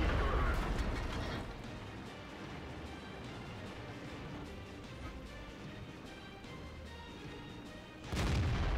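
A tank cannon firing at a KV-3 in the World of Tanks video game: a loud blast at the start, a long rumbling engine drone, then a second heavy shot near the end.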